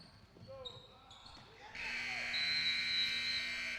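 Buzzer ending the first half of a basketball game: a loud, steady electronic drone sounds for about two seconds, following sneaker squeaks and a bouncing ball on an indoor court, with a commentator talking.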